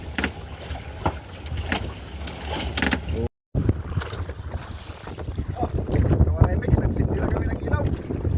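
A strong northeast monsoon wind buffets a small fishing boat at sea while squid fishing, with roaring gusts and microphone rumble that grow louder toward the end, and a voice talks over it.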